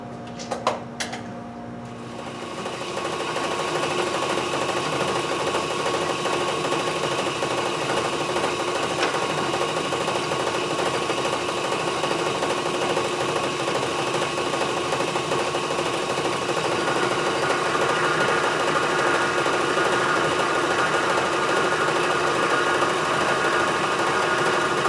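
A homemade wood lathe built like a metal lathe cuts left-hand threads for a tailstock at 20 threads per inch, giving a steady, loud mechanical whir and hum that runs unbroken after a few brief clicks at the start.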